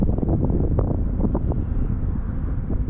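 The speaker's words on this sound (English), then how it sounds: "There's a lot of wind now." Steady heavy wind buffeting the microphone outdoors while an ArmSoar Deviant glider is flown in high winds, a constant loud roar and rumble with no voices.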